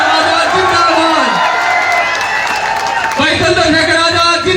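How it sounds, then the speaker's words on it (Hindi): A large crowd at an outdoor political rally in Neemkathana cheers, whoops and applauds loudly as a speaker is welcomed, a dense sustained roar with voices shouting over it. "जोरदार तालियों से स्वागत करें।"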